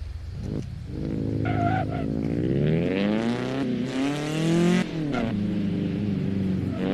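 A racing car engine in the video game Assetto Corsa revs continuously, pitch climbing and shifting through gears, loud and close, with a brief voice underneath.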